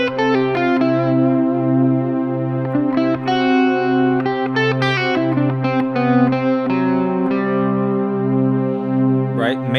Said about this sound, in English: So when you hear the Lydian sound, what you're hearing is a major scale with that sharp 4.